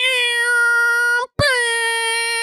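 A human voice imitates a promotional siren with a loud, sustained wailing tone, briefly cut off by a short gap partway through and then resumed, sounding close and catlike.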